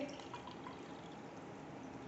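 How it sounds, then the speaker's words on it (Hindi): Water poured into a glass, a steady close pouring rush running the whole time with no talk over it. "इस पानी को इस ग्लास के अंदर डालना है ऐसे करके"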